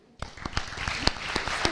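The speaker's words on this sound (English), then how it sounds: "give her a big round of applause as she comes to the stadium to receive her plaque?" Banquet audience applauding an honoree receiving a plaque at an FFA event: a scattering of claps starting abruptly, with distinct individual hand strikes spread across a moderately loud, steady patter.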